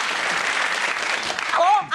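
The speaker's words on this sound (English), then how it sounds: "the crowd cheers as Stavros Flatley are crucified in flames" A studio audience at a comedy panel show cheering and applauding, a dense wash of clapping that swells, with a voice rising over it at the end.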